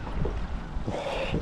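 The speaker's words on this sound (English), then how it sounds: "It's gotten a little windy" Steady wind rushes across the microphone, a broad roaring hiss with low rumbling gusts throughout, with no voices.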